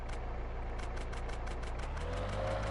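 A car engine idles and revs steadily in GTA San Andreas, a continuous low mechanical drone with a faint pulsing rhythm that rises slightly in pitch toward the end, heard alone without speech.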